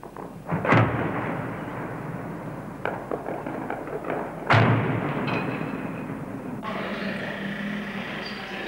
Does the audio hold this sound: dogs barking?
no